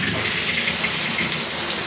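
Hotel shower water runs at strong pressure in a TownePlace Suites bathroom in Renton near Seattle, a steady, loud broadband hiss and spray that stays constant throughout.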